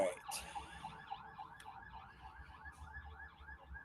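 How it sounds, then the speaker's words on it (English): Emergency sirens wail faintly in the background, far off, in a steady run of rising and falling sweeps that repeat about every third of a second. Low rumbling noise sits underneath. "Sorry, I got some sirens in the background."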